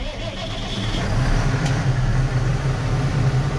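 A Dyna 7 tractor engine runs steadily and fairly close, a low mid-pitched drone that grows slightly louder after the first second and then holds an even, continuous hum.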